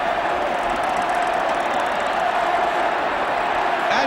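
A football crowd roars steadily for a Jimmy Greaves goal for Spurs against Derby, a dense sustained wash of cheering that stays loud throughout without letup.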